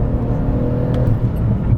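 Steady in-cabin engine drone of a 700 hp Porsche 911 GT2 RS Manthey Racing record car lapping the Nordschleife, a loud continuous low roar holding a sustained pitch with no talk.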